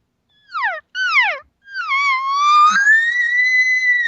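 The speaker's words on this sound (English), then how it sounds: "You notice how those cow sounds rolled right into the bugle?" Elk cow calls, two short descending whistled mews, roll without pause into a bull elk's bugle that rises and holds a long, high, strained whistle, loud and close with no talking.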